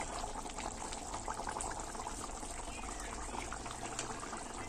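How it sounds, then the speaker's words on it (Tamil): Dried-fish curry made without tamarind bubbles at a steady simmer in a pot, a faint continuous gurgling and fizzing heard up close. "நல்லா கொதிச்சு வருது"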